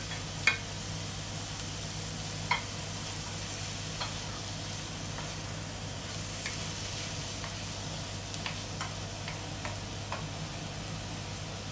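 Hotdog sizzling and frying in a pan for a spaghetti-style macaroni dish, a steady soft crackle with a few light utensil taps, close and alone with no talking.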